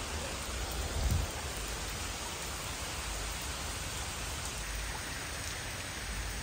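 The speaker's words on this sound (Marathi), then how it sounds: "पाऊस पडतोय म्हणून मी इथे थांबली." Rain falling outdoors on a rainy day, a steady, dense hiss that stays even and unbroken throughout with no talk.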